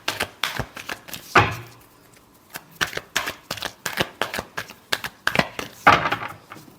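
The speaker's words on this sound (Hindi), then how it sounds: "Last shuffle." Tarot cards being shuffled by hand, a close, crisp series of riffling flutters and taps in uneven bursts with two louder sweeps, with no talking.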